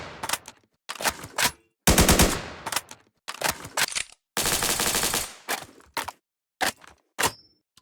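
Video game gun sound effects from a weapons sound pack: separate bursts of rapid automatic fire and single sharp shots with mechanical clicks, loud and close, split by short silences.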